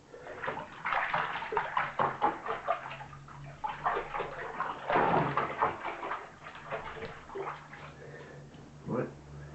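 Sloshing and swishing of wash water as detergent is stirred by hand before washing raw denim, heard in close, uneven bursts of splashing.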